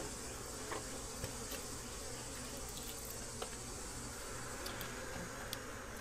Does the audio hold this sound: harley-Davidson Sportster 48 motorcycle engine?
no